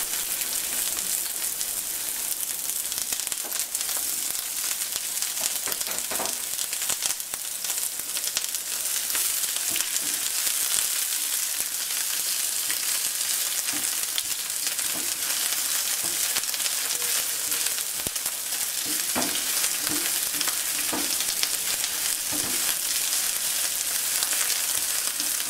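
Thinly sliced onions with dried red chilies fry in ghee with a continuous close sizzle and occasional crackles and stirring clinks, no voices.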